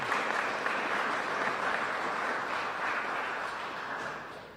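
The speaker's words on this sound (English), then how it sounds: "We give them a round of applause." An audience at a ceremony honoring police officers applauds an honor guard. The dense, sustained clapping from many hands fades slightly toward the end.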